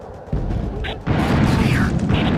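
Frag grenade blast in the Ghost Recon game, two deep booms in quick succession with a burst of debris noise, loud and close, while a voice speaks briefly.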